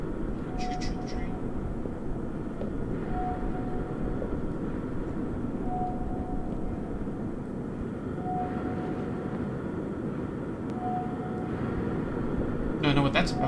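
A train sound effect in a video game, a continuous rumbling roll with a soft repeating whistle-like tone at regular intervals, and a few brief clatters near the end.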